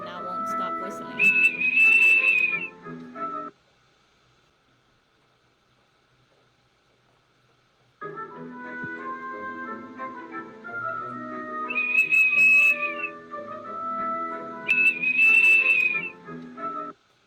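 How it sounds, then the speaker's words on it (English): A dog blows a whistle it found in a backyard, giving repeated shrill, high blasts over a busy background. A few seconds of near silence break up the sound. "my dog found a whistle in the backyard and now won't stop whistling"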